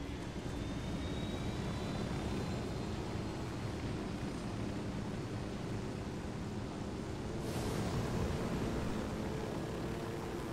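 In the game Ghost Recon Wildlands, a helicopter flies with a steady, loud roaring engine and rotor wash, a continuous broad drone that swells slightly near the end.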